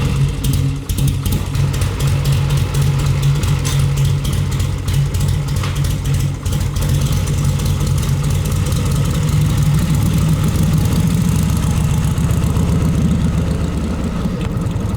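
A motorcycle engine idles after warming up, a loud steady low rumble with a throbbing pulse and slight rises in pitch, heard close and continuous with no talking.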